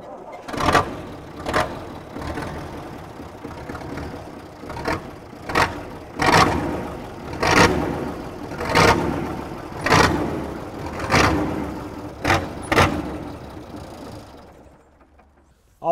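An old tractor engine runs with a slow, rhythmic chugging pulse, each beat loud and close, settling into a steady uneven putter across the whole stretch with no talk.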